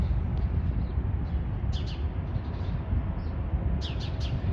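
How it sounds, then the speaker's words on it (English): Sparrows chirp in short bright bursts over the steady rumble of downtown Hartford traffic near the train and bus station, several quick clustered calls rising above the city noise. "Little sparrows."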